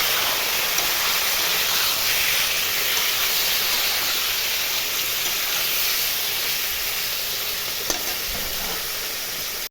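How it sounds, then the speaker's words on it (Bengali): Meat frying in oil with salt and turmeric, a dense, continuous loud sizzle and hiss with a faint scrape of stirring, steady throughout with no voices. "লবণ, হলুদ দিয়ে মাংসটাকে একটু ফ্রাই করে নেব।"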